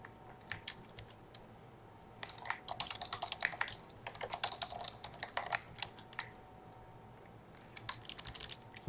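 Someone types on a computer keyboard while writing Python code comments, bursts of quick, close clicking keystrokes separated by short pauses.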